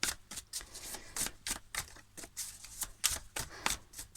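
Tarot cards being shuffled and handled at close range, a quiet run of quick papery riffles and taps in an irregular rhythm.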